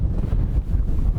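Gusty desert wind buffets the microphone outdoors at a campsite in Mortero Wash, Anza-Borrego, producing a loud continuous low rumble with no other sounds.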